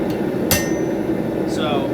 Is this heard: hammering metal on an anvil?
yes